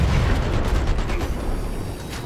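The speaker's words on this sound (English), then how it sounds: "Changing mag." A weapon magazine reload clatters in the video game Dirty Bomb, a few quick mechanical clicks and snaps in close succession over steady background game noise.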